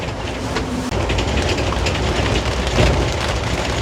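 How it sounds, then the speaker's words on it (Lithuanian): Rain falls during a jungle trip in Khao Sok, Thailand, making a loud, dense, continuous patter over a low rumbling vehicle, steady throughout with a slight swell near the end. "O, lietutis."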